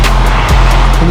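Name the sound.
car pulling up and reversing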